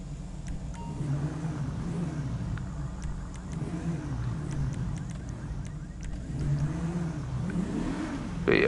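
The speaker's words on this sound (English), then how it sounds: "it's an ENS Paragon R sport car" An ENS Paragon R sports car in GTA Online revs and accelerates continuously, its engine note rising and falling in waves, with a steady hum running underneath.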